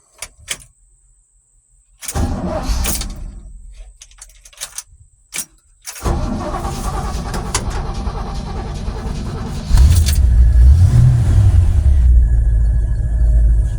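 An old farm truck with an automatic choke and a low battery, sitting for 45 days, gives a few clicks and key jingles, then cranks, catches and settles into a loud, steady run before revving harder near the end.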